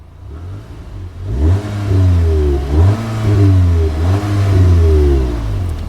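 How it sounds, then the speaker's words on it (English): A 2019 VW Golf R Mk7.5 with a warm engine and DSG seven-speed gearbox, revved a few times while stationary: loud, close blips rising and falling, with no talking. "So let's start it up. give it a couple of revs."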